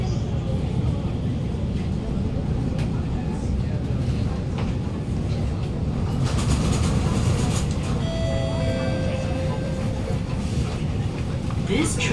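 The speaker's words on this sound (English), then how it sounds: "This train has stopped here for a short while because the train" SMRT R151 metro train running underground near Bishan station in Singapore, a continuous loud rumble and rushing roar with a brief rising electric whine near the end.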